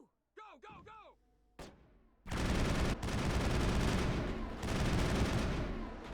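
Gunfire from a Mass Effect 1 firefight, as sustained bursts of shots that fill most of the clip, loud and dense. Short vocal barks and sharp impacts come before them.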